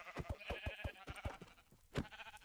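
A sheep in Minecraft bleats in a quick series of short, rhythmic, nasal pulses close by, followed by a few longer trailing bleats, with no talking over it.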